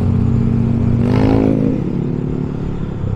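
A motorcycle fitted with a loud villain pipe exhaust rides down San Pedro Bridge, its engine a heavy, steady drone that swells into a brief rev partway through before settling back.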